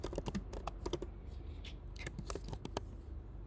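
Rapid clicking of computer keyboard keys as text is typed into a text box in the Photopea image editor, irregular bursts of keystrokes close up with no voices.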